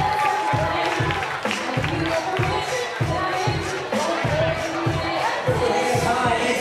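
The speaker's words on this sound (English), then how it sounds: "big round of applause." Wedding guests at Chateau Del Mar clap and cheer loudly. The crowd noise is sustained, with a thumping rhythmic beat underneath and voices mixed in.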